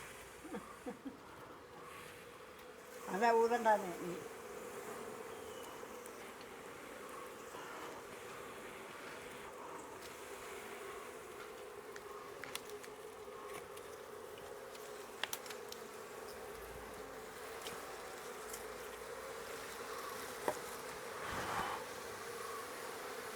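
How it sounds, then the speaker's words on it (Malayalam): Honeybees buzzing around, a faint steady drone with one louder close pass early on, heard outdoors without talk. "ഇത് ഏത് തരത്തിൽ ഈച്ച ഇത്"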